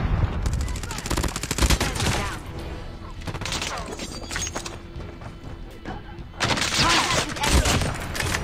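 Bursts of gunfire from COD Mobile ranked play, loud rapid shots in clusters at the start, middle and end, with game effects filling the gaps.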